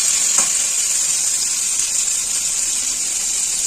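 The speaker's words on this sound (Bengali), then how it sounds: "দেখুন মশলা থেকে সুন্দর করে মশলাটা কিন্তু কষানো হয়েছে। এদিকে মশলা থেকে তেলও ছেড়ে দিয়েছে" Spice paste frying in oil in a pan for a potato and pointed gourd curry, a loud continuous hissing sizzle held close and steady throughout, no voices.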